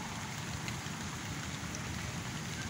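Heavy rain pours steadily outdoors, a dense, continuous hiss and patter close to the microphone with no voices over it.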